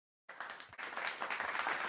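A crowd breaks into applause after a brief silence, dense clapping building and holding steady at moderate volume.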